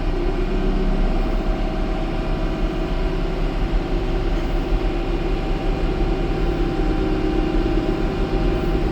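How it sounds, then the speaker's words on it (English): A tractor engine revs up to 540 PTO speed beside a Krone TC320 discbine, giving a loud, steady, continuous mechanical drone with a rumbling low end throughout. "Here, we'll rev the tractor up"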